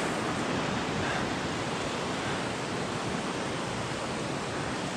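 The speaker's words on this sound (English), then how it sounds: "But let's check out this waterfall first." Waterfall on the Thorong La trek in Manang, Nepal: a steady, dense roar of rushing water, loud and close, with no voices.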